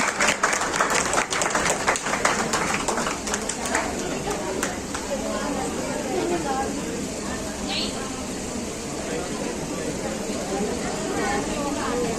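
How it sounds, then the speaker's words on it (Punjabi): Audience at an anniversary award ceremony for a Punjabi news channel claps after being asked, a dense crowd applause with sharp early bursts settling into a steady wash, voices chattering beneath. "ਪਲੀਜ਼ ਇੱਕ ਵਾਰੀ ਤਾੜੀ ਜ਼ੋਰ ਦੇ ਮਾਰ ਦਿਓ"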